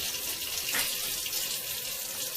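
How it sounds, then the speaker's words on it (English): Tap water runs steadily into a crockpot for rinsing, a close, continuous splashing hiss with no pause and no talk. "So I'm doing the cheat way of rinsing. Throw a little water in there."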